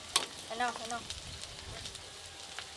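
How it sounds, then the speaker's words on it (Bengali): Grated onion with ginger and garlic paste fries in oil in a pan for a spicy tilapia curry, a steady soft close sizzle with a brief voice early on and a sharp clink at the start. "গ্রেট করে রাখা পেঁয়াজ আর আদা রসুন বাটা একসঙ্গে একটু ভালো করে ভেজে নিয়েছি"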